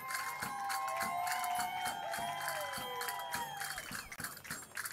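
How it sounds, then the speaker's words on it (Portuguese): A large outdoor crowd of thousands cheers and claps in steady rhythm at a Portugal Day parade in Newark, with shouts and horn-like tones rising over the noise. "com o aplauso das milhares de pessoas que estão aqui"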